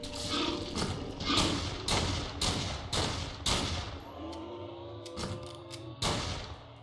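Gunfire in the game Fallen Earth, a run of sharp, evenly spaced shots, about six in quick succession followed by a few more after a short pause, fairly loud over low ambient hum.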